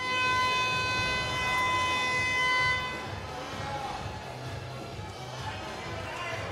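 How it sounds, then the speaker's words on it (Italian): A loud, steady siren sounds over the crowd noise of an indoor Serie A1 roller hockey arena, calling the two teams back onto the rink, then cuts off after about three seconds as the crowd murmur continues. "Intanto suonano le sirene di rientro per le due formazioni."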